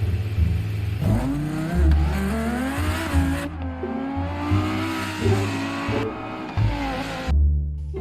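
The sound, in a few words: toy race car revving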